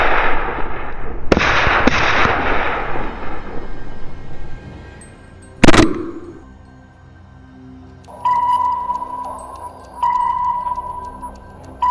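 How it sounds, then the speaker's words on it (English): A hunter fires a single loud, sharp gunshot at a wild boar outdoors. The shot rings briefly above a softer earlier crack and fading noise, and faint tonal sounds follow. "Without hesitation, I pulled the trigger."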